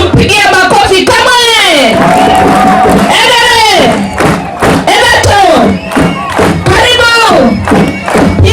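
A large crowd at a political gathering in Tharaka Nithi County, Kenya, cheers loudly with rising shouts and ululating voices, mixed with clapping and thumps throughout.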